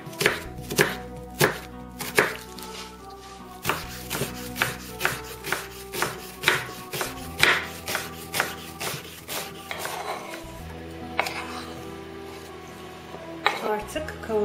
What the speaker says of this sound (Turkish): Öncelikle soğanı iyice kıyalım